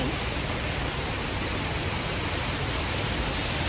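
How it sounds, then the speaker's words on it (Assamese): Dense, steady roar of heavy rain, loud and unbroken from start to finish with no pauses or voices. "ৰাইজ বৰষুণ, ভিজি গ'লো আমি।"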